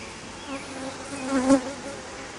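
Swarming honeybees buzzing, a busy hum of many wings with one insect droning close past the microphone midway, louder for a moment before fading.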